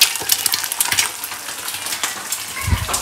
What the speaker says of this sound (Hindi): इसमें अंदर बना रही हूँ ऑमलेट नूडल्स साथ अंदर